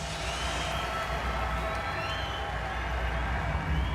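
A Glasgow crowd at a boxing event keeps up a steady, loud roar and cheer throughout, with a dense wash of voices and a faint hint of talk mixed in.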